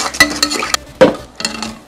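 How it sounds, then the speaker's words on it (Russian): Sugar is stirred into water in a pot, giving three short, close scraping strokes with small clinks of the spoon against the metal, separated by brief pauses. "Перемешиваем наш сахар,"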